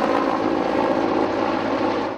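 Firefighting helicopter flying over a forest fire, its steady rotor and engine roar continuous and fairly loud throughout, easing slightly at the very end.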